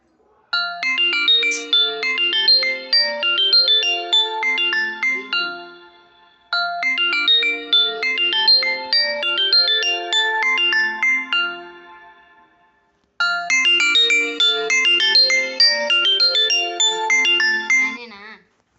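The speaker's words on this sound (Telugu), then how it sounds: "ఫోన్ ఎత్తాడు" A mobile phone ringtone plays a bright electronic chiming melody in three long rounds, each cut off by a brief pause, clear and fairly close with no talking over it.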